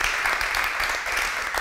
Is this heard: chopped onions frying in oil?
no